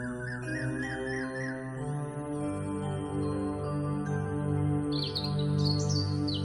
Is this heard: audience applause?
no